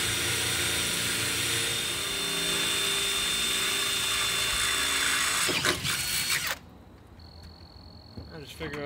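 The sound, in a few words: drilling a hole in a trailer for a camera wire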